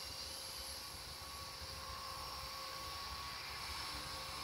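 A Q450 V3 quadcopter on an autonomous flight over a sports field gives a steady, faint, distant whirring drone with a constant high motor whine that holds evenly throughout, without voices.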